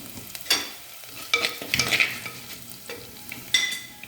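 Native chillies and onions frying in a pan for a tomato chutney: a steady sizzle broken by sharp scraping and clinking of stirring, with louder bursts spread across the stretch.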